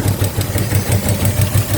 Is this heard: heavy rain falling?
no